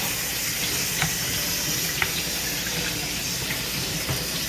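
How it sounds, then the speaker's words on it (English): Cold tap water runs steadily over strained noodles in a colander, a continuous close hiss and splash with a few faint clicks, no talking. "I'm about to strain my noodles and run a little cold water over them"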